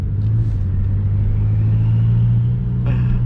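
A BMW F10 M5 under launch control, a loud, steady low engine rumble heard from inside the car, with a brief rise in roar near the end.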